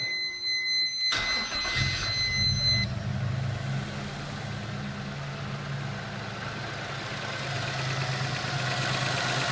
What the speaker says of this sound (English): Alright, so the car is currently warm. We'll give it a bit of a start up.